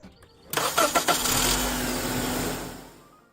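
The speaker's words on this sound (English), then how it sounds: "So set the tester down in a safe spot and start the car." Car engine cranking briefly with a few quick starter pulses, then catching and settling into a steady idle, close and loud with no talking.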